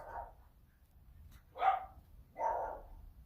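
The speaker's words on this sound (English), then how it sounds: "The neighbor's dogs, man." A neighbor's dogs bark at a distance, three separate barks spaced about a second apart against quiet background hum.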